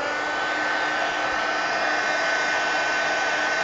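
A heat tool blows steadily while drying indigo paint in an art journal, a loud continuous whir with a faint hum underneath, holding unchanged throughout.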